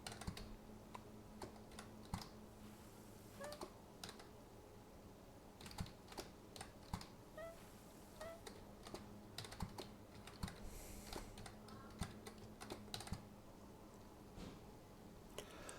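Computer keyboard typing while the video game PlateUp is played, a steady stream of quick, close clicks and key taps with occasional heavier strokes, no voices.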